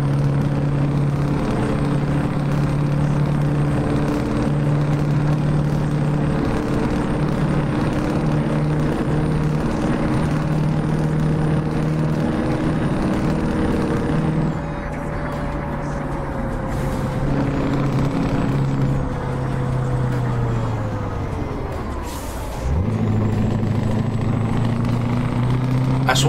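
A truck in Euro Truck Simulator fitted with a modded extreme exhaust sound drones loudly and deeply as the engine climbs through the gears, the pitch falling at each shift with a brief hiss between, steady and close.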